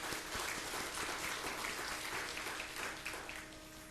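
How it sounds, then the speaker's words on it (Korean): Church congregation applauding, a dense steady patter of many hands clapping at moderate distance, slowly thinning near the end. "다시 한번 이분들을 위해서 박수로 이렇게 좀 격려했으면 좋겠습니다."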